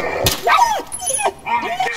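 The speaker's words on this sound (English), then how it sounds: "Stupid ass dog." A dog in the Call of Duty Modern Warfare campaign gives a rapid run of sharp yips and whining barks, close and loud, several short calls packed into two seconds.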